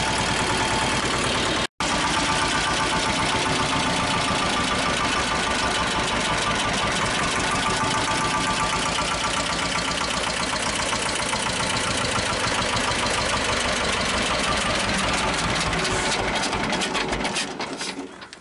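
A Belarus 250 tractor engine with a fuel leak where it enters the cylinder head idles loudly and steadily with a rapid mechanical knock. It cuts out for an instant early on and fades at the end.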